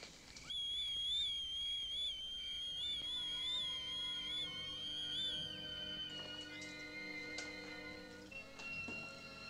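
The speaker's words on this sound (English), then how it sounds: "What's that? A whistle." Whistle blowing in a thin, high tone with a warbling trill, held for several seconds before shifting pitch, while faint ticking runs underneath.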